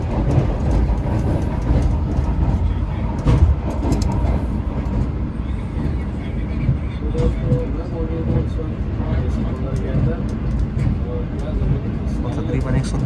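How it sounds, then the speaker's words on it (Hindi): The upgraded Shalimar Express rumbles at high speed toward Karachi, heard from inside an AC parlour class coach as a steady roar with faint clattering wheels and intermittent voices underneath. "111 किलोमीटर की ज़बरदस्त रफ्तार के साथ ट्रेन भागते हुए कराची की तरफ।"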